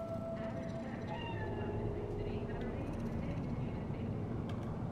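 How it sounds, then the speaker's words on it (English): Cat meowing in the video game Cyberpunk 2077 over a constant low ambient rumble of the city, with a few short meows spread through the stretch. "It's a cat."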